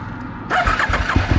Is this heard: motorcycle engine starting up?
yes